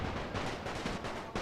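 Machine gun fire in a World War I battle video game, a dense, continuous loud barrage of rapid bursts with no gaps, heard alone without talking.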